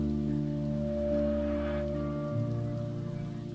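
Steady rain falls on a bridge in a video game, a dense continuous hiss of drops over a low droning tonal hum, unbroken and evenly loud throughout, with no talking.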